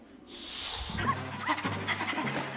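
A dog barks, yips and whimpers close by in an indoor scene, a burst of high whining followed by rapid excited yelps over a low rumble.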